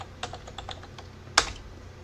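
Typing a command on a computer keyboard at an openSUSE Leap desktop: a few light, scattered key taps followed by one sharper, louder keystroke, close and clear with no talking.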